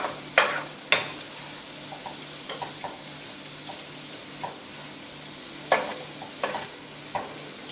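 Chicken stir fry sizzling in a pan on high heat, a soft steady sizzle broken by a few sharp clacks and scrapes of a utensil against the pan; no talk.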